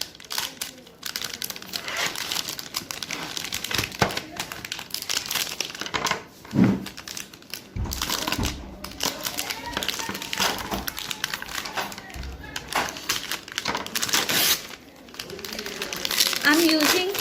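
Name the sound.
cutting Morde milk chocolate for rum chocolates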